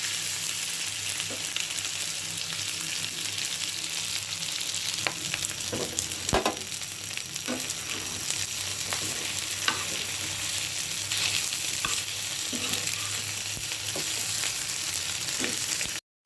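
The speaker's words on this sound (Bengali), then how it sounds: "কুচি কুচি করে কেটে কাঁচামরিচ পেঁয়াজ ডিম দিয়ে লবণ দিয়ে তেল দিয়ে ভেজে নিচ্ছি" Chopped green chilli, onion and egg frying in oil with salt, a steady close sizzle broken by repeated scraping and stirring clicks, running on without speech.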